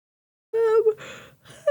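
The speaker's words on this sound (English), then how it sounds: "It's a big yawn." A person lets out one big open-mouthed yawn, a rising breathy vocal sound, close and alone against silence, followed by a short breath.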